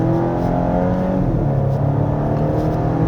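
A 2024 Volvo S60 B5 with front-wheel drive revs hard under acceleration on a winding road, a loud, steady engine note heard from inside the car with no talking.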